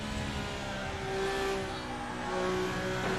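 A high-pitched Formula 1 race car engine whines steadily during Miami Grand Prix qualifying, its tone rising and falling slightly as the car runs continuously, with no voices.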